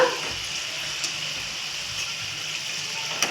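Samosas frying in hot oil on a low flame, a steady close sizzling hiss with a few faint pops, continuous and alone with no talk.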